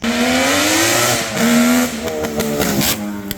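A loud, raspy two-stroke engine of a 1972 Suzuki GT750 built with three RM250 engines revs up and down in surges, its crackling exhaust note rising and falling with sharp bursts near the end.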